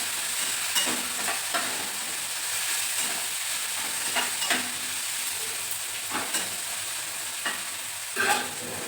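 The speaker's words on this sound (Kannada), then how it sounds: "ಟೊಮೆಟೊ ಹಾಕಿಕೊಂಡು ಫ್ರೈ ಆಗ್ತದೆ ಈ ಥರ" Tomatoes frying in a pan for a brinjal palya, a continuous close sizzle broken by repeated short scraping stirs of a spoon against the pan, with no talking.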